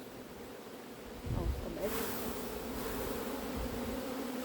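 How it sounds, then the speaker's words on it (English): Bees buzz steadily inside an open beehive, a dense continuous hum that grows slightly louder partway through, with a voice speaking briefly over it. "That is full of bees."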